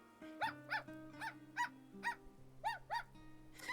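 A small dog in the video game Love and Deepspace gives a run of about nine short, evenly spaced barks, clear and fairly close over a soft sustained background tone.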